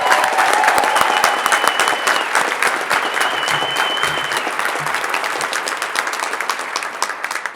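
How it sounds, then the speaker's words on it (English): Applause from an audience at a national council gathering of parents for transgender equality, honoring the children seated in the crowd; dense, steady clapping fills the whole stretch, fading slightly toward the end, with faint voices mixed in. "I also want to ask you all to give a hand to all of our children that are sitting in the crowd"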